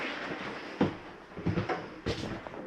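Cabinet and entry doors on a 2022 Mesa Ridge 314RLS travel trailer being shut, a series of close thuds and latch clicks spaced irregularly over a few seconds.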